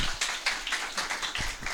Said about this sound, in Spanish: Les pido que lo recibamos con un caluroso aplauso.